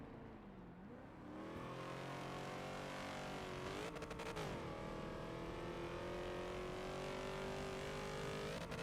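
A race car in the Forza racing game drifts through corners on the La Mans circuit, its engine a loud, steady drone that shifts pitch as it revs through the bends, with a brief surge near the middle and no talk over it.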